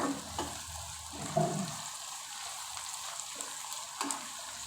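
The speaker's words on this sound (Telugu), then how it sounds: "మూడు ఉల్లిపాయలు తీసుకొని సన్నగా కట్ చేసుకొని చక్కగా ఆయిల్లో మగ్గనివ్వాలన్నమాట" Thinly sliced onions, three of them, frying gently in oil for a chicken semiya dish, giving a steady soft sizzle with a few light stirring clinks and scrapes, no voices.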